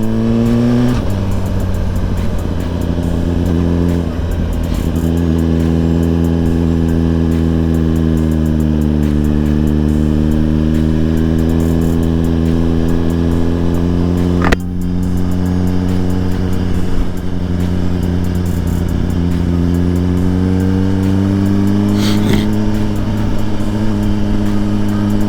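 Suzuki GSX-R 1000 motorcycle engine holds a loud, sustained rev close up, its pitch dipping and climbing slowly, with a sharp click midway and no talking.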